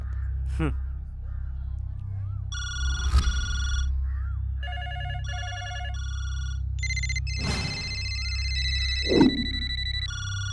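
A telephone rings in repeated electronic bursts over a steady low hum, with a few brief vocal sounds in between.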